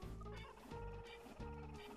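A bird calls in the video game Space Station Silicon Valley, a loud, close, gobbling cry repeated in steady pulses about every three-quarters of a second over a constant game sound bed.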